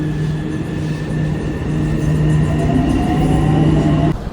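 A Cairo metro train rides along with a loud, steady rumble and hum from the carriage, building slightly before a sudden drop at the end.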